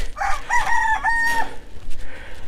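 A chicken lets out a loud, close crow-like squawk, a couple of rising tonal calls in quick succession, followed by quieter rustling.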